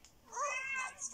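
A pet cat gives one drawn-out, rising and falling meow close by, wanting a door opened, followed by a softer trailing call, with faint background noise.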